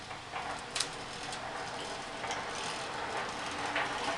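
Steady mechanical whirring with a rattly, grinding texture and a few sharp clicks, like a hand-cranked honey extractor spinning four frames of honey, close and even throughout.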